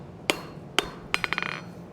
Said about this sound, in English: We're going to hammer each one of those steps a little bit more.